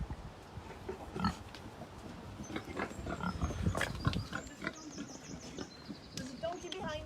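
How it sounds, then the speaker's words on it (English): Pigs roam a field at a rural farm event venue, giving scattered close grunts and snuffles amid rustling and movement, with people speaking intermittently nearby. "I'm going to go and find the pigs now."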